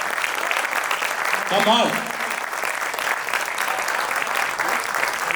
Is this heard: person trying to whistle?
no